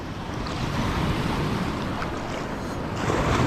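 Sea waves surging and slapping around a small fishing boat off the Isle of Man, a continuous broadband wash with steady wind buffeting the microphone, close and loud throughout with no voices.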